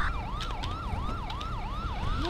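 A loud, close ambulance siren in GTA V FiveM wails in a fast, steady up-and-down cycle that repeats without a break, with a low engine rumble under it.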